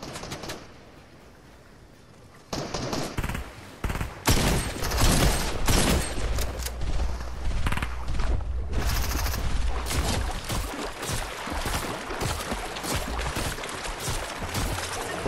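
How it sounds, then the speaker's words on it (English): Rapid bursts of video game gunfire crackle loud and dense, starting after a quieter opening and continuing in repeated volleys through the rest of the clip. "Where's that fucker shooting us from?"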